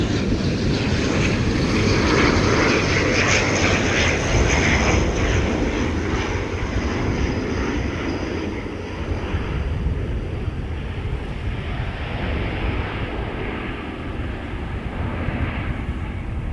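A fixed-wing aircraft passes with a sustained, loud engine roar and broadband rush that swells early and slowly fades, with wind buffeting the microphone outdoors on a cold day of plane spotting.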